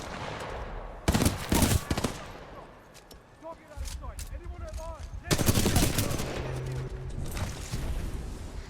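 Bursts of gunfire from the first-person shooter Titanfall 2, loud rattling volleys separated by a quieter stretch of electronic game effects, with no talk over them.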